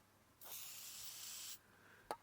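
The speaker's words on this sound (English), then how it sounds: "give the sensor and the plug a good spray with MAF sensor cleaner" Aerosol can of MAF sensor cleaner sprayed onto a vehicle MAP sensor and its plug during a LandCruiser 200 intake service: one steady, close hiss of about a second, followed by a brief click.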